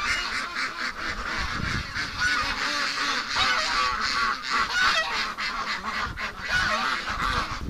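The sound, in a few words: ducks waiting in a pen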